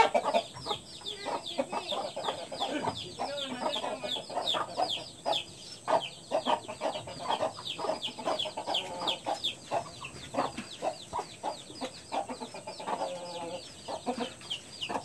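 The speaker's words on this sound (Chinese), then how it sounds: "母鸡在照顾小鸡哦，" A hen clucks while tending a flock of chicks. Repeated close clucks mix with the chicks' high cheeping in an uneven, busy chatter, with no voices.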